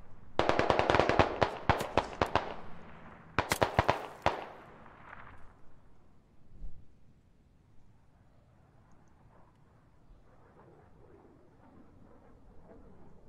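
Rapid bursts of gunfire in the military shooter game Squad crackle loudly in the first few seconds, then again around three to four seconds, before fading into a quiet distant rumble with no talking.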